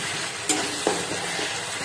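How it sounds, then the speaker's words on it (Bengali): Ginger garlic paste frying in oil for mutton curry, stirred in the pan: steady close sizzle with two sharp spatula scrapes standing out, moderately loud, no voices. "আদা রসুন পেস্টটা যখন পর্যন্ত তেলটা না ছাড়ে তখন পর্যন্ত আপনারা নাড়াচড়া করতে হবে"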